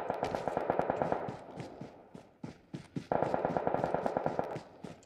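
Rapid automatic gunfire from the mobile battle-royale game PUBG Mobile, two long loud bursts of closely spaced shots with a brief gap between them.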